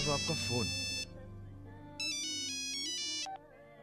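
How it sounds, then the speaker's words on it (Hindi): A phone's electronic ringtone chimes in two bursts of bright repeating tones, with a brief gap between them. "साहब, आपका फोन।"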